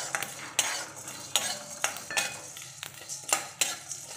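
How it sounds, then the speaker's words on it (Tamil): Peppercorns and cardamom dry-roast in a pan while a metal spoon scrapes and clinks against it in quick, uneven strokes, close and fairly loud, without any sizzle of oil. "இது எல்லாமே நம்ம ஃப்ரை பண்ணி நல்லா வறுக்கணும்"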